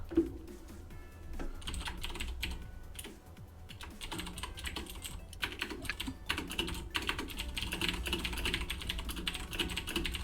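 Rapid clicking keystrokes on a computer keyboard come in irregular bursts with brief pauses, close and moderately loud, during a livestreamed Action Henk tournament broadcast.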